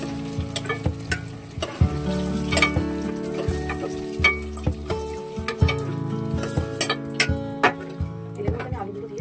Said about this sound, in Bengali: হালকা হালকা করে ডিমগুলো ভেজে নেওয়ার পর আমি আস্তে আস্তে প্লেটে তুলে নেব